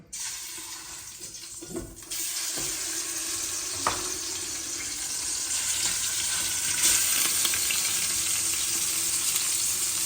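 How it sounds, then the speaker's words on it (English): Beef sears in a thin, already hot couscous pot in Morocco, a loud continuous sizzle that kicks in after a couple of seconds and keeps crackling and spitting steadily. "I'm gonna start searing some beef in there to begin with."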